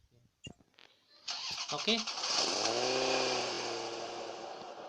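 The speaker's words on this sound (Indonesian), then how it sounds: "seperti menyalakan mesin mobil, menghidupkan pertama kali mesin mobil seperti itu" A car engine cranks and catches in the Android game Grand Fight Gangsters, preceded by a few clicks and a short word, then settling into a steady, loud idle that holds to the end.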